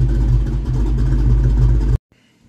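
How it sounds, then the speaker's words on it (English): A Ford Mustang engine running rich idles with a loud, close, throaty rumble that holds steady for about two seconds before cutting off abruptly into near silence. "the car is sounding amazing. Running rich and fat as can be"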